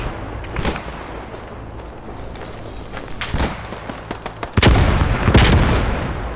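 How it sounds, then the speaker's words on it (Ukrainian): Squad 44 video game battle: explosions and gunfire crackle in bursts, then a heavy grenade blast booms loudly and rumbles on for a couple of seconds. "Пришла перекидка гранатами жорстко."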